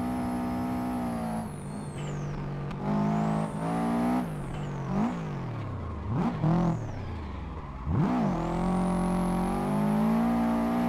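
A Subaru drift car in the racing game Assetto Corsa, its engine revving high and dropping sharply at each gear shift, a loud continuous whine with repeated rises and falls and no talk.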